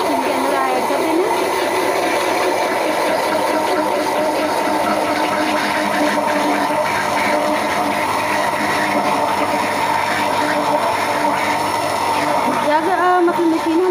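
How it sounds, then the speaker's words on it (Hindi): An electric blender runs steadily, mixing eggless chocolate cake batter with oil, a constant loud whirring drone throughout with someone talking over it. "जब मतलब मशीन हमारी ऑन ही है, इसको हम ब्लेंड करेंगे तकरीबन 4 से 5 मिनट"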